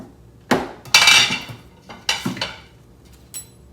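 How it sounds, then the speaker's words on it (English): Slow cooker chicken cacciatore ingredients being stirred, with several sharp metallic clanks and scrapes of a spoon against the pot coming in short bursts, close and fairly loud. "Now all we need to do is stir that up a little bit"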